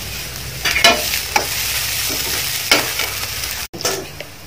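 Curry leaves sizzle as they drop into samosa masala being cooked in a pan, with a steady crackling hiss broken by a few louder stirring scrapes.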